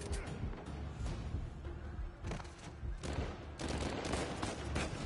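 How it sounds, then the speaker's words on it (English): Machine gun fire in a video game rattles in dense, continuous bursts with a brief lull midway, fairly faint and distant-sounding overall. "The machine guns can't kill him."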